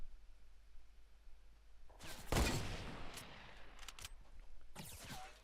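Gunfire in a Fortnite Battle Royale match: a sharp loud burst of shots, then a few scattered shots and another burst, all fairly close over a quiet background.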